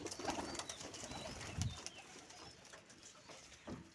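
Pigeons coo softly from a rain-dampened loft, a few low rounded calls rising over faint background noise with scattered chirps and no speech.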